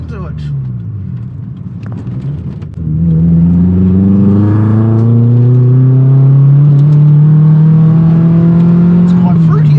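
Mitsubishi Mirage rally car exhaust revving up loudly while driving, the engine note climbing steadily after a short idle and staying close and dominant, with a voice talking at the start.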